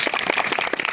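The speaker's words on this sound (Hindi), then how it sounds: "ताली लगाओ दादा इसकी कला।" Crowd clapping for a street magician's snake trick, a quick burst of several hands clapping in an uneven rapid rhythm, close and fairly loud for about a second.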